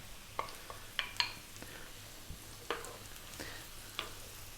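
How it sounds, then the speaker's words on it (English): Eggplant, onion and garlic sizzle softly in olive oil in a pan, with a few sharp utensil clicks and scrapes from stirring scattered over the quiet frying. "We're going to drop in our onion, which I've cut nice and small. We're going to add our tablespoon of garlic, and we're going to get straight in the eggplant."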